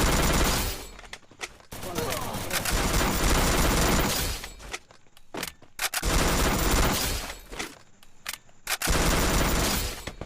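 Gunfire rattles through a Free Fire video game match in long, dense bursts of rapid automatic shots that stop and start several times, loud and close, with someone talking over parts of it.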